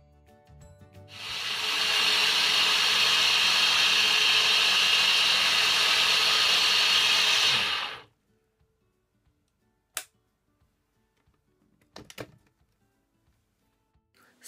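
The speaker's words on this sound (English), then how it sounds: "so now I'm gonna blend it all up." An electric blender whirs loudly and steadily for about seven seconds while blending fruit punch, then switches off, followed by a few scattered knocks and clatters.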